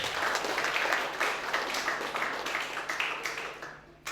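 An audience claps at a school graduation farewell ceremony, a dense, steady applause heard from within the crowd for several seconds before it drops away at the end.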